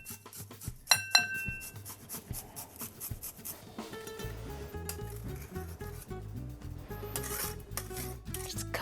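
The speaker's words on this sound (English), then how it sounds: "We're microplaning some garlic into our soon-to-be guacamole." Garlic cloves rasped on a microplane over a bowl of mashed avocado and lime for guacamole, a steady scraping rhythm with clinks of utensils near and close, no one talking.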